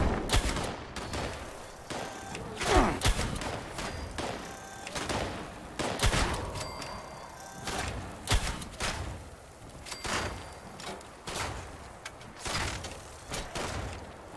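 Gunfire from a mole miner in the Fallout 76 Wastelanders game, with repeated sharp bursts and cracks going off irregularly throughout, fairly close and loud.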